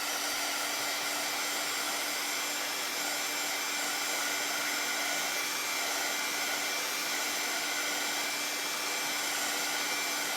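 A hair dryer blows steadily on fresh paint on a small craft piece, a loud and constant whooshing hum held for several seconds with no talking.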